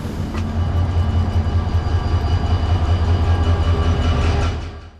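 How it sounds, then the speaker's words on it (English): A Tunisian passenger train hauled by an EMD GT18 diesel locomotive rumbles loudly and steadily, its low engine drone and rolling wheel noise constant before fading at the very end. "Hauling us will be an EMD GT18 diesel locomotive."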